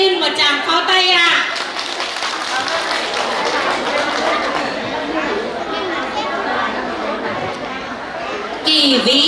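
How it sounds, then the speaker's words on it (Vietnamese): A Buddhist audience claps throughout at the inauguration celebration of Phuc An temple in Ky Vy village, Ninh Nhat. The applause is loud and quick, with voices chattering over it, and it fades off before a short burst at the end. "Xin quý Phật tử nếu đồng ý cho tôi xin một tràng pháo tay ạ."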